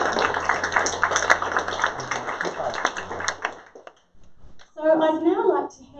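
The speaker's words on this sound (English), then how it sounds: "Round of applause for the panel," Conference audience at a STEM careers panel claps steadily for several seconds, fading into silence, then a voice speaks.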